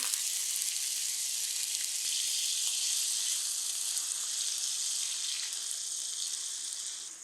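Chopped potatoes frying in hot oil for an Afghani omelette, giving a steady, close, bright sizzle that holds evenly throughout and eases slightly at the end, with no voices.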